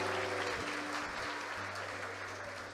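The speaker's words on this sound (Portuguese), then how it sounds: "Dá uma salva de palmas pro irmão aí," Church congregation clapping for a brother during a 2021 conference service, a steady wash of applause with a low sustained tone beneath it that fades slightly toward the end.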